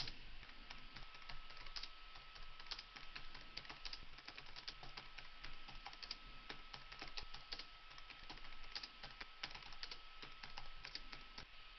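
Rapid typing of a quotation on a computer keyboard while photo-editing software is in use, steady clattering keystrokes running continuously at close range with no speech.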